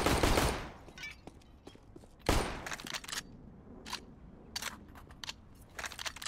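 Gunfire in the video game CS:GO: two loud bursts of shots, one at the start and one near the middle, then scattered quieter shots and clicks that continue to the end.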